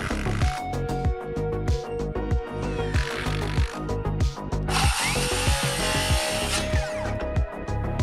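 A power drill drives batten screws into a timber farm gate being built on site, with close, loud whirring bursts that repeat in quick succession, each ending in a strained bite as the screw seats.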